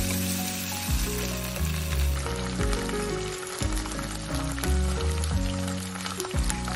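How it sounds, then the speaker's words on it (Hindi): A spice paste for sambar fries in a pan with a dense, continuous sizzle and crackle, steady and close, while a loud repeating musical tone pattern plays over it. "पेस्ट, इनको भी हम भून लेंगे।"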